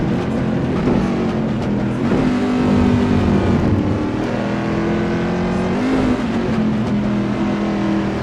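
Race cars pass at Silverstone in a racing game, loud engines droning and shifting pitch steadily as leaders come through, with one brief swell around the middle and no talk.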